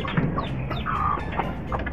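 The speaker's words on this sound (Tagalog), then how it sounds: "tara kuhain natin yung mga bago natin papisang sisiw." Newly hatched chicks peep in short, high chirps with clucking fowl nearby, moderately close over a low background hum.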